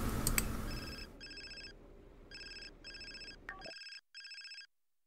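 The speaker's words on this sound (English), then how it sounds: "I don't want to answer the phone. It's the principal calling." A telephone rings inside The Sims 4 life-simulation game, its electronic ringtone sounding in several short, evenly spaced bursts, clear and alone, before cutting off abruptly.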